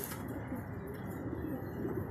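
Pigeons coo steadily during a racing-pigeon training release, a continuous murmur of soft, overlapping coos with faint chirps, moderately close and with no talking.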